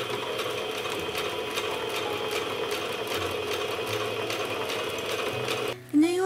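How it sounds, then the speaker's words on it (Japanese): A sewing machine runs steadily, stitching through a fabric spray case pouch with masking tape still attached, a continuous close mechanical whir that stops abruptly near the end. "マスキングがついたまま1センチ内側を縫っていきます"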